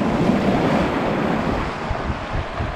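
Rough, agitated sea surf crashing onto the shore during a bamboo-rod fishing outing, a loud, continuous roar of breaking waves mixed with wind buffeting the microphone, with no voices.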